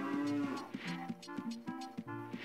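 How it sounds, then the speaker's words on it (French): Cows on a ranch in a video game moo repeatedly, several low drawn-out calls in quick succession, clear and close with no talking. "Alors là, on a des vaches."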